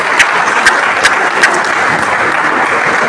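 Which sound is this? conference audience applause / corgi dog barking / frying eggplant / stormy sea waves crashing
conference audience applause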